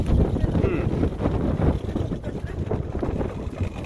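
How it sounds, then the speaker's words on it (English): Wind gusting steadily across a Portuguese beach, buffeting the microphone in a dense, continuous low rumble that swells and eases slightly without pause. "looks like the wind kicked up a bit here"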